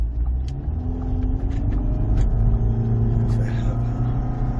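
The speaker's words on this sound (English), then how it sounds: "Let me floor the vehicle" A 2010 Ford Fusion Hybrid driven at full throttle on the highway, with a steady low engine and road rumble building gradually and continuously throughout, heard from inside the cabin.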